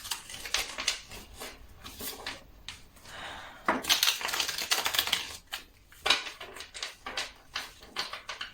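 Tarot cards shuffled by hand close up, a quick rustling patter of card flicks and riffles in uneven bursts, with no talk.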